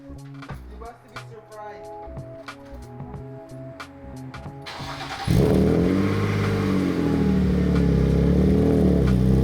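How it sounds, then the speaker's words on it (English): A BMW E36 engine fires up from cold with a muffler fitted, a loud broadband roar catching abruptly and settling into a steady, fairly subdued idle; clattering and shuffling precede the start, with a voice or two nearby. "we about to do a first cold start with the muffler"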